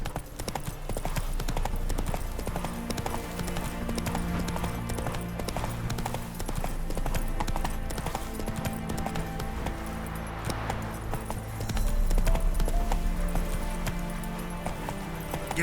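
Roach, a horse in The Witcher 3, gallops with a rapid, continuous drumming of hooves, heard close and steady over game music and ambient background.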